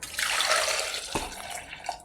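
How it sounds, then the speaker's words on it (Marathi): Water splashes and gurgles close by for about two seconds as it is poured into a pressure cooker holding four potatoes. "बटाटे घालून आपण थोडं पाणी घालणार आहोत"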